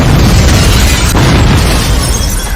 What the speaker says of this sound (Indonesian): Akibat dari ledakan bom tersebut